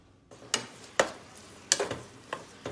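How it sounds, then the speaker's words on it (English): Veggie chunks sautéing in a pan, with a quiet sizzle under a few sharp, scattered clicks and scrapes of a utensil against the pan, close and fairly soft, no talking. "my veggie chunks is being sauteed"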